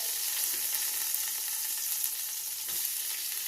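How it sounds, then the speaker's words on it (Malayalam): Rice roasting in a pan for beef biryani gives a steady, dense sizzle and crackle throughout, close and moderately loud, with faint stirring scrapes and no voices. "അരി നല്ലോണം വറുക്കുക"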